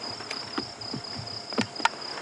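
Bubbling kassina frogs call at sunset on a safari drive, giving a few short, soft, distant pops that sit within a steady, close chorus of chirping crickets.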